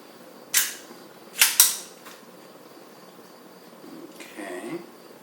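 A .32 ACP Tanfoglio pistol is reassembled, giving three sharp metallic clicks close by in the first two seconds, then a softer scrape and rattle of parts being handled in an otherwise quiet room.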